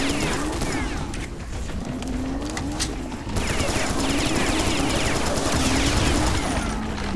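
Dense, sustained gunfire from weapons in the Serious Sam 3 BFE shooter game, a loud continuous rattle of rapid shots with booming low rumble throughout.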